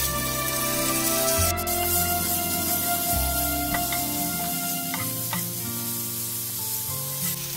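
Ginger-garlic paste hitting fried onions in a pan for palak potato, a steady close sizzle with occasional stirring scrapes under a constant low hum, no one speaking.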